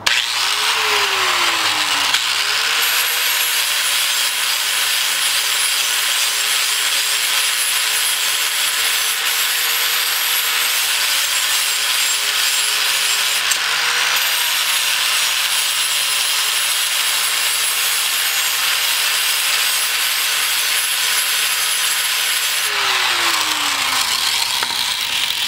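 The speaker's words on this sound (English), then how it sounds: "the grinder gives it a really cool, brushed metal look" A grinder brushing the metal top surface of a homemade go kart, giving a loud continuous whine and abrasive rasp with slight pitch shifts as pressure changes, alone without voices.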